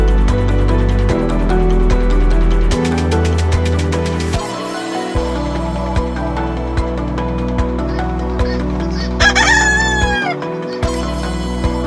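A rooster crows loudly and close at a mini park among ducks and chickens, the long cock-a-doodle-doo rising over a steady background of music-like droning tones and soft clucks.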